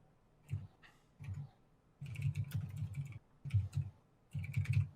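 Fingers type on a computer keyboard in short irregular bursts of quick, close clicking keystrokes separated by brief pauses, with no voices over it.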